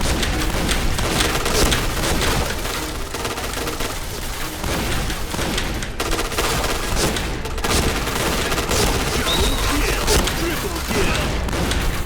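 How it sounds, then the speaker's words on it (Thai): Gunfire in the shooter game Point Blank crackles in dense, continuous bursts with booms and rapid shots throughout, mixed with a player's voice. "ได้ยินเสียงปืนยิงกันอยู่แถวนี้"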